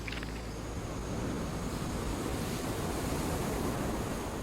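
Ocean surf breaks and washes along a beach in a steady, loud, broad roar that continues without pause, with no voices over it.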